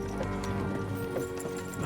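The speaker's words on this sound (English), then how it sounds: "don't you think maybe we could make the horses go a little faster?" Horses clip-clop along at a slow, steady walk in the video game Kingdom Come Deliverance 2, hoof beats soft and continuous under a busy ambient background with faint voices.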